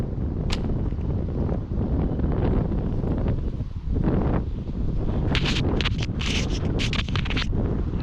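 Strong wind buffets a microphone beside a river, a steady rough roar throughout with a few brief rustling gusts toward the end.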